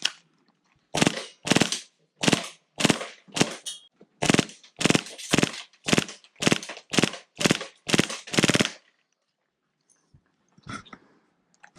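Airsoft AEG running an M4 magazine conversion on a cheap HPA gas line, firing about fifteen sharp single shots in a steady rhythm close up, then a pause and a couple of faint clicks.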